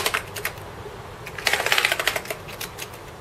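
Keys clatter on a Commodore Amiga A1200 keyboard fitted with replacement keys and a new shell, rapid bursts of close, crisp typing during a key test, busiest in the middle, with no talking.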